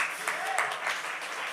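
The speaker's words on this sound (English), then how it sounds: "We can clap for that." A lecture audience breaks into applause, a dense wash of many hands clapping at a steady level for a second and a half, with no voice on top.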